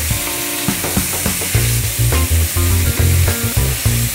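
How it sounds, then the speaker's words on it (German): Chicken meat sizzling loudly in a hot pot for a chicken-and-mushroom stew, with repeated stirring scrapes and knocks in a steady rhythm over continuous frying hiss, close and clear. "jetzt geben wir die Hähnchenfleisch rein. Und ein bisschen umrühren."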